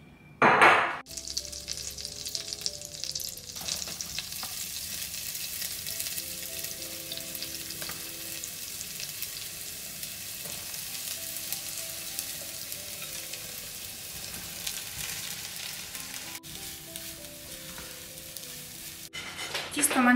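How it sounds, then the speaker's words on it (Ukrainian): Dough fries in continuously sizzling oil, a bright steady crackle with occasional clinks of utensils and a brief stirring sound. "І потім будемо його смажити на вишковому маслі."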